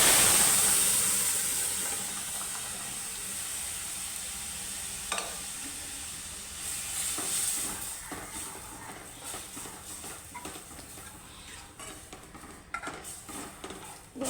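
Blended spinach and moong dal hit a hot tempering and give a loud burst of sizzling, which softens into a steady fry with occasional spoon scrapes and clinks on the pan.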